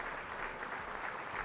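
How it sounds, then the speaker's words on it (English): Audience applause at the SADC heads of state summit, honoring Angola: a dense, even wash of many hands clapping, steady and moderately loud throughout the short stretch. "give us 2 rounds of applause, one for Angola"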